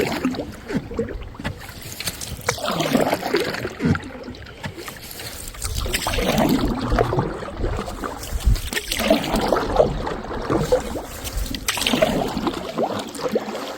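A canoe paddled solo across winter water on the way to a portage, with rhythmic strokes, splashes and gurgling water that swell and fade in repeated cycles, close by and fairly loud, with no talking.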